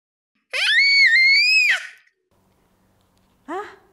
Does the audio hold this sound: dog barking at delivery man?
no